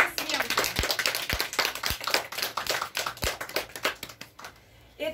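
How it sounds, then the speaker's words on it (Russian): An audience at a literary contest awards ceremony claps for the participants, a dense patter of hands with a few heavier claps standing out, some voices mixed in beneath, and a brief lull just before the end. "А теперь поприветствуем аплодисментами наших конкурсантов."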